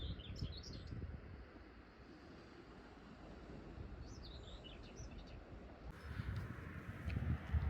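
A male bird sings on coastal cliffs in the morning. Its short, high chirping phrases come in two bursts, faint and somewhat distant, over steady wind noise.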